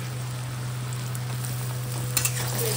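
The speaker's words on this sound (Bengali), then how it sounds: "টমেটোগুলো একটু ফ্রাই করে নেবো" Chopped tomatoes sizzle in a kadhai over lightly fried onions, a constant close crackle with a steady hum beneath and a couple of brief stirring clinks near the end.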